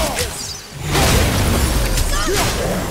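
An in-game explosion from God of War, a loud booming blast with whooshing debris that swells after a brief lull and fills the rest of the moment, with a voice briefly audible over it.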